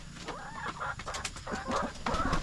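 Rhode Island roosters on a farm clucking and calling up close, a run of short, throaty calls in quick succession with no talk.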